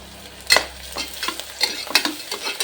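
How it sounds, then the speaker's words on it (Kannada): Green chillies tossed into onions frying in a pan, a short burst of loud close sizzling with sharp crackles and stirring scrapes, no voices. "ಈರುಳ್ಳಿ ಚೆನ್ನಾಗಿ ಫ್ರೈ ಆಯಿತು ಈಗ ನಾನು ಹಸಿರು ಮೆಣಸಿಕಾಯಿ ಹಾಕ್ತಾಯಿದ್ದೀನಿ"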